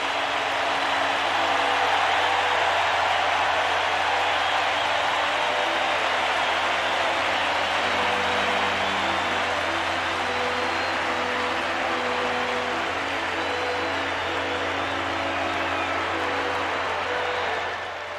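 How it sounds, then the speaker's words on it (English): Dense, sustained roar from a baseball stadium crowd at a 1991 World Series game between the Twins and Braves, Game 3 in Atlanta, as a relief pitcher comes in during the 8th inning; a broad, steady wall of noise lasting throughout. "Alejandro Pena will come in and listen to this crowd."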